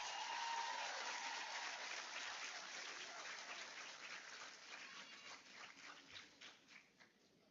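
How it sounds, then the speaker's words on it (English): Graduates at a university congregation ceremony in a conference centre clap for themselves, a broad wash of applause from a large crowd heard at a distance, slowly thinning into scattered individual claps. "give yourselves another round of applause"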